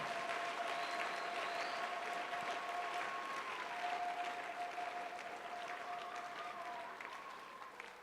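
A congregation at a prayer service claps steadily for several seconds, a dense continuous patter of applause over a faint sustained tone.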